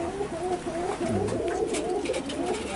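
Young pure-bred kentong pigeon cooing softly in a loft, with low repeated coos running steadily under a busy background of faint chatter and rustling.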